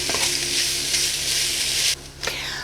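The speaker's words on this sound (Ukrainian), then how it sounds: "Його постійно треба перемішувати, щоб фарш не брався комками і рівномірно просмажився." Minced meat for a bolognese sauce sizzles steadily in a hot frying pan while a spatula stirs and scrapes it, a continuous close frying hiss with a brief dip near the end and no talking.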